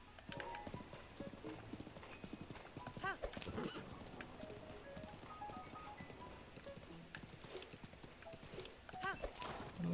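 Horse hooves clip-clop rhythmically in a video game, with whinnies heard over a busy mix of game sounds and music; a person talks intermittently throughout.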